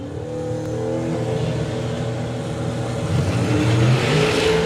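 Drag race between a 1968 Chevy muscle car and a Chevy pickup truck, engines roaring loudly and continuously nearby, the revving swelling stronger toward the end, with no talk.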